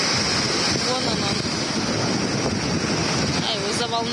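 Sea waves wash onto the shore at Mangistau. Heavy wind buffets the microphone and largely masks the surf, which comes through as a constant broadband rush, with faint voices briefly near the end.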